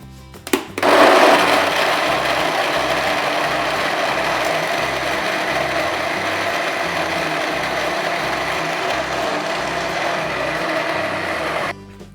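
A blender starts with a click and runs steadily at full power for about eleven seconds blending soy milk, a loud, even whirring grind, then cuts off.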